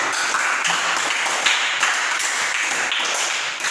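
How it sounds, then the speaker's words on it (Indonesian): Classroom pupils clap together for group 1, a dense, steady patter of many hands that keeps an even level for a few seconds. "tepuk tangan untuk kelompok 1"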